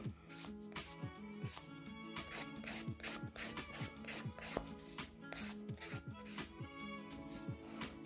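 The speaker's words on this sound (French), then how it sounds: "je vais venir mettre ma lime à plat, parallèle à mon ongle" A nail file rubs flat against a fingernail to file off gel polish, giving a steady train of quick rasping back-and-forth strokes, close and fairly quiet, with background music running underneath.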